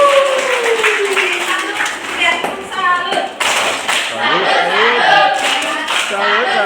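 Children clap their hands together in a classroom scout session, a rhythmic patter of many small claps running throughout, close and fairly loud, mixed with chatter and voices.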